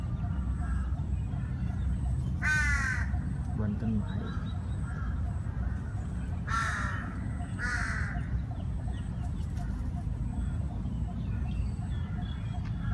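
Crows caw a few times, harsh and somewhat distant, over steady low outdoor rumble and background noise.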